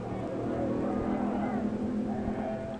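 A C Gasser racing a maroon car at the 1964 NHRA U.S. Nationals drag race at Indianapolis Raceway Park, a dense, steady engine roar that holds loud throughout with a faint rising whine above it.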